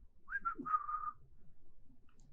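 A person tries to whistle: a few short, breathy pitched notes followed by one longer wavering tone, close and fairly quiet, then near silence.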